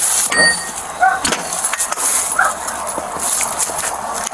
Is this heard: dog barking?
yes